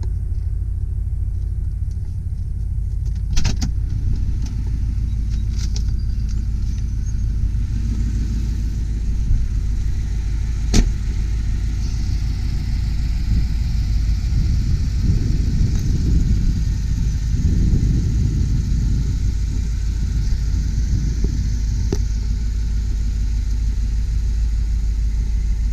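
A 1980 Mercedes-Benz 450SEL 6.9 V8 idles with a steady deep low rumble close by, a few faint clicks and a slight swell in engine note partway through, with no talking.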